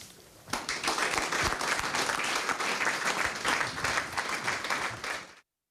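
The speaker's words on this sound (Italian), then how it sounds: "Questo l'applauso della Coldiretti di Padova a Gino Cecchettin," A Coldiretti Padova audience breaks into sustained applause, a loud, steady wash of many hands clapping that holds for several seconds before cutting off abruptly.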